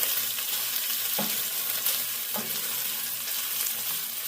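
Turmeric fries in a pan for a curry grouper fish head, giving a steady close sizzle broken by a few short stirring scrapes, with no talk.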